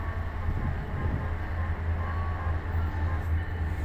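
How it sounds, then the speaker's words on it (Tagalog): Long cargo train rolling through a station in Al-Hasa, Saudi Arabia, a steady low rumble and rattle of freight wagons passing close by, continuous and unbroken throughout. "Cargo train."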